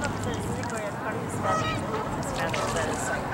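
Geese and ducks honk and call continuously nearby while being fed, a noisy flock chorus with people talking faintly in the background.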